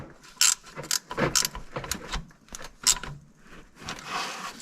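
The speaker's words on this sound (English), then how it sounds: "so I'll get my ratchet back in" A ratchet clicks in short, irregular bursts while tightening fan belt bolts on a 1994 Suzuki Sidekick in a garage, close and fairly crisp with small metallic clatters between the bursts.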